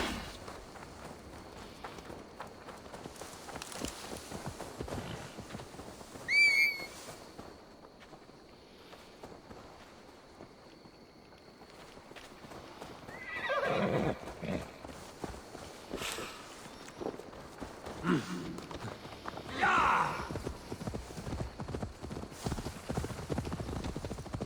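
Hooves of a horse in Assassin's Creed Valhalla clip-clopping over ground in irregular walking and trotting steps, with occasional louder bursts and a brief snort or whinny amid game ambience.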